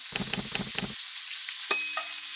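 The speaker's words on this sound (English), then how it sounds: "I'm just rolling them around in the oil to try and get every side a little brown." Lamb meatballs browning in shallow oil, a close, even hiss of frying overlaid by a few quick rhythmic scrapes and rattles as they are rolled around the pan, then a sharp metallic clink and a thinner sizzle.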